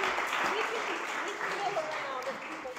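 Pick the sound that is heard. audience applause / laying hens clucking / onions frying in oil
audience applause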